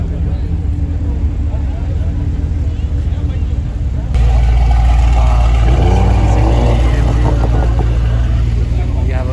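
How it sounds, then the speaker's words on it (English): Sports cars such as A90 Supras, a Golf GTI, an Evo, a McLaren 650 and a Mercedes AMG GT S leave a night car meet in Dubai, engines droning loudly and surging louder partway through, with voices under the roar. "All the cars are leaving now."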